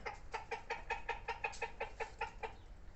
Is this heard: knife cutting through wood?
no